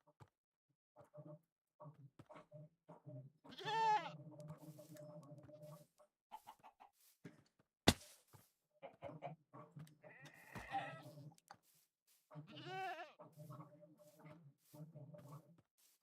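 Blocky video-game goats in Minecraft bleat in several wavering cries, with other short game sounds scattered between them and a clucking chicken nearby.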